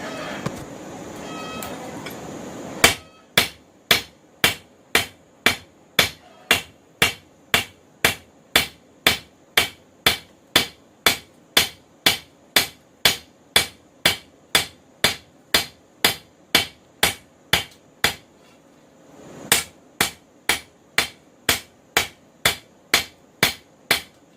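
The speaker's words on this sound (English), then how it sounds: "But get it back in the fire, either heat it up, keep on hammering." Steady rhythmic hammer blows on a hot cable Damascus knife billet during forging, about thirty sharp ringing strikes in a regular series after a brief quiet start, with a short pause before the hammering resumes.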